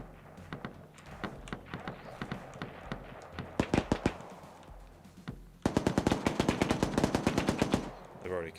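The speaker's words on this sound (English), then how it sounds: "Gunshots." Gunfire from a night operation in the video game Arma 3. Scattered single shots and short bursts give way to a dense, rapid automatic burst, loud and close.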